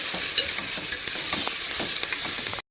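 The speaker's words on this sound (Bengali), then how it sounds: "এদিকে লবণ দিয়ে দিচ্ছি স্টুতে, হলুদ দিচ্ছি, দিয়ে ভালো করে নেড়ে নিতে হবে" Chicken stew with salt and turmeric stirred in a pot over steady hissing heat, a quiet continuous sizzle with faint scrapes and soft clinks from the spoon, no voices.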